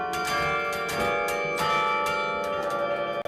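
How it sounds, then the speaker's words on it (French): Carillon bells of Tourcoing ring in overlapping tones, several strikes sounding in quick succession and leaving a bright, lingering shimmer. "Je vous laisse écouter le carillon"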